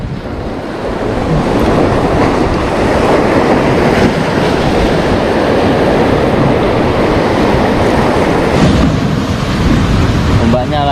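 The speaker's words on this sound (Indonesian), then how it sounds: "Ombaknya lagi pasang tinggi." Ocean surf pounds the shore at high tide during a night of squid fishing, a loud, continuous churning roar with no breaks from start to finish.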